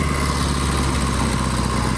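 Engine of a 1964 Royal Enfield Interceptor 750 motorcycle running under way during a gear change, a loud, close, steady rumble with a low throb and no talk.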